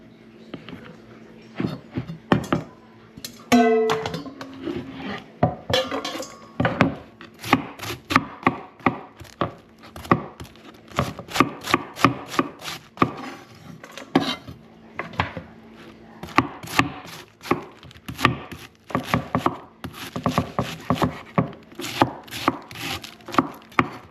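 Vegetables, such as purple onions, being cut with a knife on a board, a long run of quick, regular, crisp chopping taps, close and fairly loud, with brief pauses.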